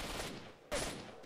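Enemy gunfire in the PC game S.T.A.L.K.E.R.: Shadow of Chernobyl, two bursts of rattling shots about half a second apart, loud and close, with no talk over them.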